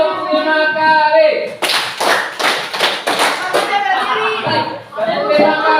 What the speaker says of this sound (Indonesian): Tepuknya 5 kali sebanyak 5 kali.